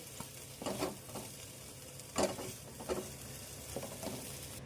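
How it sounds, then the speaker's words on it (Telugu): Onions and tomatoes fry in oil in a pan, a quiet continuous sizzle broken by several soft scraping stirs of a spoon at irregular intervals, close up with no talking. "ఒక రెండు టమాటాస్ వేసుకొని ఒకసారి మళ్ళీ ఫ్రై చేసేయండి"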